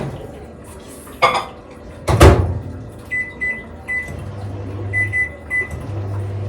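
Butter warmed in a microwave in a home kitchen: a low steady hum with beeps, plus a sharp clatter of dishes and a door clunk, close by.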